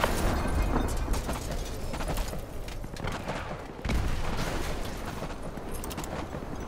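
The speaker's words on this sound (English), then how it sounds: "Those explosions are going to attract a lot of attention." Explosions and heavy gunfire in the video game Call of Duty: Modern Warfare 2, Contingency mission: a continuous loud, dense barrage of deep booms and crackling blasts with a brief dip before another surge.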